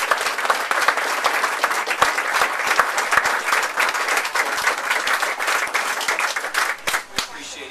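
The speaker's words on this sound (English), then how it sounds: "let's give them a round of applause." An audience at a presidential candidate's campaign event in Boone, Iowa applauds veterans, giving dense, sustained clapping from a roomful of people that tapers slightly near the end.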